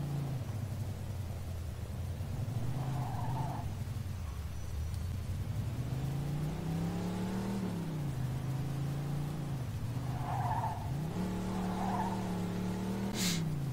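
A car engine in Mafia 2 revs hard and climbs through the gears, its pitch rising and falling with each shift. A short squeal cuts in near the end.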